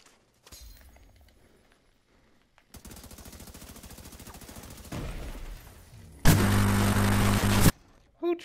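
Gunfire in The Division 2, with sustained rapid automatic bursts that grow louder and end in a dense, harsh volley, alongside breaking and shattering sounds; a voice speaks briefly near the start.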